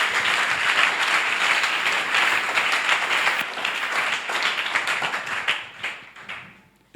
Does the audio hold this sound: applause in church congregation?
yes